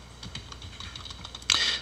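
Computer keyboard typing during Java servlet coding, a quick run of light key taps that ends in a louder, brighter clack, close and alone.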